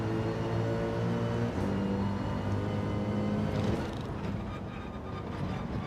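A Mercedes-AMG Gr.3 race car engine in Gran Turismo 7 at Road to Atlanta drones steadily with shifting harmonic tones, easing off partway through and leaving a quieter rumble, with no talking.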